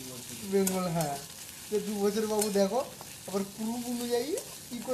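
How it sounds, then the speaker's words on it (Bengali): Ground spice paste fries and sizzles in a pan while being stirred for a potato and okra dish, a steady close sizzle with scraping strokes at intervals. "অ্যাড করার পর মশলাটাকে বেশ করে ভেজে ভেজে নিতে হবে"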